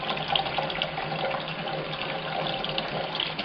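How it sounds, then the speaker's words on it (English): Water pours down steadily like heavy rain, a dense, continuous splashing hiss at constant loudness with no voices. "The water! It's raining!"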